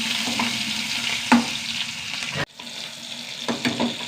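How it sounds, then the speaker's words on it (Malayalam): Small shallots, onion and curry leaves fry in hot oil with a steady, close, bright sizzle, broken by a few stirring knocks and one brief dip before the frying hiss returns. "കുറച്ച് ചെറിയ ഉള്ളി, കറിവേപ്പില, ഉള്ളി നന്നായി മൂത്ത് വരണം."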